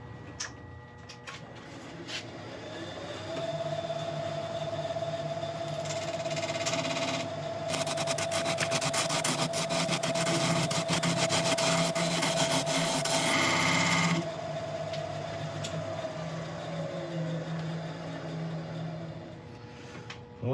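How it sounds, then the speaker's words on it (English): A half-inch round nose scraper cuts a wood burl spinning on a lathe: a steady hum of the turning lathe underlies a loud, rough, rasping scrape that swells in the middle and then eases off. "This is just a 1/2 inch round nose scraper, which I'm just going to present to the surface and just take it in"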